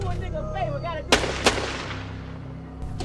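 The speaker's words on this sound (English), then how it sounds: "a couple of quick successive gunshots" Two quick successive gunshots from the film Jackie Brown, sharp loud cracks close together after some background movement and a faint voice, followed by a low lingering rumble.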